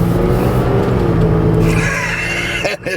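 A 1990 Lincoln Town Car on the Panther platform with 49K miles is driven hard, its engine droning loud and steady, then rising in pitch as it pulls through a gear before a brief dip near the end.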